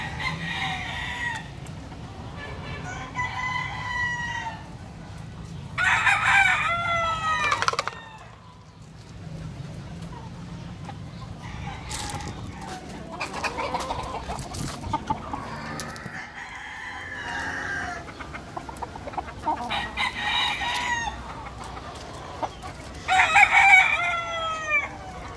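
Roosters of the gallino indio breed crow repeatedly in a farmyard, with several loud nearby crows and other fainter ones, plus clucking hens, over steady outdoor background noise.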